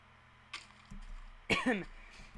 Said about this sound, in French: Excusez-moi de tousser, mais c'est parce que j'ai un petit peu mal à la gorge.